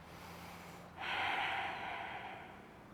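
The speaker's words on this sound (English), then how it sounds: "Cleansing breath here." A single deep cleansing breath during a restorative yoga session, one sharp audible inhale or exhale that rises suddenly and then fades over a couple of seconds, close and fairly soft against a quiet room.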